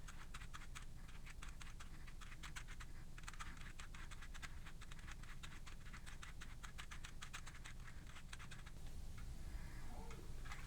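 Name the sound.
peeling a potato with a peeler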